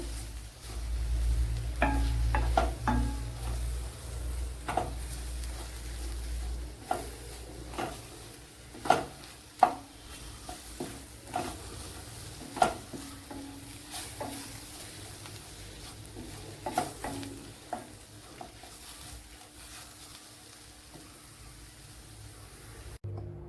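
A few fenugreek seeds fry in a tablespoon of coconut oil, giving a soft, quiet sizzle punctuated by repeated sharp clicks and scrapes of a utensil against the pan.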